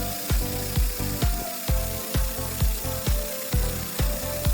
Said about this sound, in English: Transon platform automatic fiber laser welding machine.